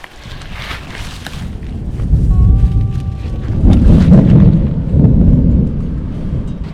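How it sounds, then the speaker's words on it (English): Deep rolling thunder from a short-lived spring storm at a backcountry camp, loud and sustained in two swelling waves with gusty wind noise buffeting the microphone and faint rain. "So the storm was very short-lived."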